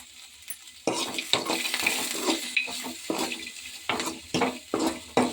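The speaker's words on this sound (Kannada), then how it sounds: "ಈರುಳ್ಳಿ ಸ್ವಲ್ಪ ಕೆಂಪು ಆಗೋವರೆಗೂ ಹುರ್ಕೊಳ್ಳಿ." Onions frying in a pan until reddish, a close sizzle that swells and fades in bursts as they are stirred, with scraping strokes of a spoon across the pan.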